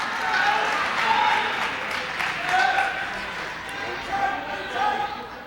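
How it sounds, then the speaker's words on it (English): A crowd at a 1998 high school girls' basketball game between Winthrop and Saugus gives a steady round of applause for a player, sustained clapping under an announcer's continuous talk. "Anita Dada getting a nice round of applause."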